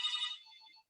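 A phone rings once in a room: a bright electronic ringtone burst that fades into a few faint tones within about a second, then silence.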